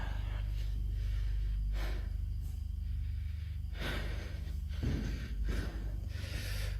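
Heavy, raspy breathing comes in repeated close, loud gasping inhales and exhales over a low rumbling background, with no talk.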